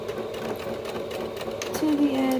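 A sewing machine runs a straight stitch along the folded edge of leotard fabric. It makes a steady, close mechanical whirring and rapid needle ticking, and a voice sounds faintly near the end.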